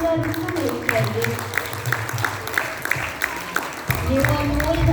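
A crowd at a spiritual gathering keeps clapping for a welcomed guest, steady massed applause under murmuring voices, swelling slightly louder near the end.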